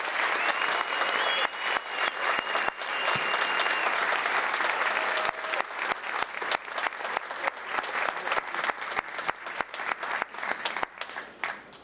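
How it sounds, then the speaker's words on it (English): A town council meeting audience gives a big round of applause for students recognized as Student Citizens of the Month: a dense, sustained clapping that thins into scattered individual claps toward the end. "a nice big round of applause"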